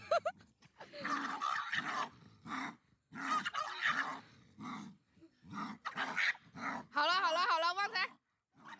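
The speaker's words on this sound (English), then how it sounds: "The dog is using pure intimidation." A dog growls and snarls at a tiger in a sequence of rough, throaty bursts. The rumbling growls are close and fairly loud, and they grow into a harsher, rising snarl near the end.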